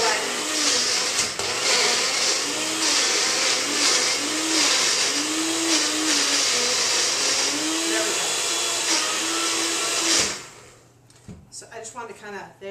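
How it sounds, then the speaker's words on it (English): A blender whirs loudly and steadily for about ten seconds, mixing an apple pie a la mode smoothie with Reliv powder and yogurt, then cuts off abruptly as a voice begins talking. "So we're going to go ahead and just mix this up real quick. Shake. Give a quick little blend."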